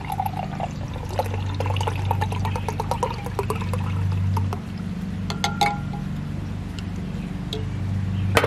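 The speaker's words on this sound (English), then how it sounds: "So let's pour it in here." Canned iced coffee with milk and sugar is poured into a glass, a thin continuous trickle with small ticking clinks near the microphone over a low background hum.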